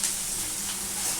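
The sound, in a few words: onions frying in a pan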